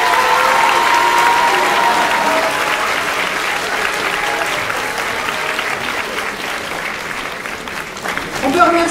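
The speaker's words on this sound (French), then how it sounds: "Je crois qu'on peut les applaudir." An audience claps steadily throughout to honour the jury at a high school eloquence contest in a hall. The applause is full and continuous, with voices faintly underneath.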